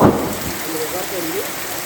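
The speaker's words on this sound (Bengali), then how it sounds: "নীরব নরম পাতার উপর আজকের সন্ধ্যার বৃষ্টিটা যেন হাজারো গল্পের এক মিলন মেলা" Evening rain falls on leaves as a steady, dense patter heard from a house veranda, with a soft low rumble at the start.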